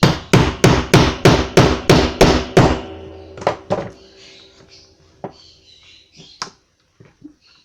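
Hammer striking a grommet setter to set grommets into soft wood, eight rapid evenly spaced loud whacks followed by a few scattered lighter taps and handling knocks, close by with no talk.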